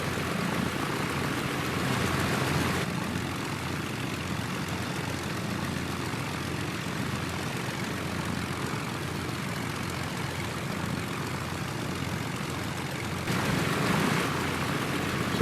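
A Junkers F13 propeller aircraft taxiing, its engine droning steadily and loudly throughout with a broad rumbling roar that swells slightly at the start and end.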